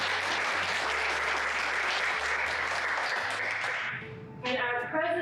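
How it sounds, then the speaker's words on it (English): An audience applauding at a 2025 Lambda Pi induction ceremony, sustained dense clapping from a crowd that fades out near the end, with a voice speaking briefly afterward. "So let's give everyone a round of applause."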